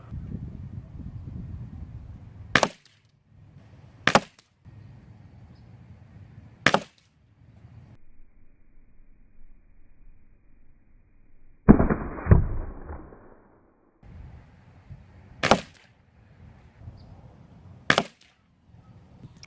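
A Diana Chaser air pistol fires pellets at a target at 15 yards, giving six sharp, isolated cracks spaced a few seconds apart over quiet background, with one louder double snap near the middle.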